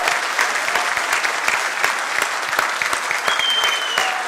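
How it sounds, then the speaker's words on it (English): A live audience breaks into loud, sustained applause that fills the room, dense clapping with cheering mixed in and a brief whistle near the end. "can we first hear a loud round of applause?"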